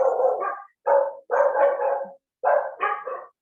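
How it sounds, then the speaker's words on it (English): Dogs bark outside in short, loud bursts, four or five close barks separated by brief silences, with no people talking. "But the dogs outside are so noisy."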